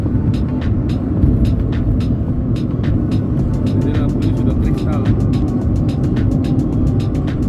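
Steady low road rumble fills the cabin of a Toyota Twincam SE Limited 1.6 on a toll road, a constant droning hum rising from beneath the car, with a person speaking over it.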